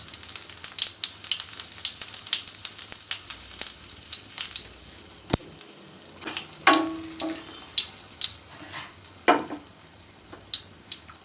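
Mustard seeds, a few dry chillies and asafoetida sizzling in hot oil, a soft steady crackle with scattered sharp pops and spits, close and fairly quiet, with no talking.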